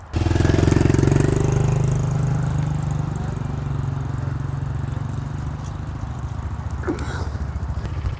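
A 2026 Honda CRF 125 motorcycle engine idles nearby with a steady low putter, slightly louder at first and then holding even.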